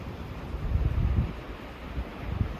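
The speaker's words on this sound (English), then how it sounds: "As you can tell, it's still windy out." Wind gusts buffet the microphone outdoors on a hunting outing, with low rumbling swells that rise and fall over a few seconds.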